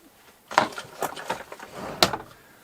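A drawer is opened and closed while putting something away inside a camper van: a few sharp knocks and sliding thuds close by, with a distinct bump near the end, no talking.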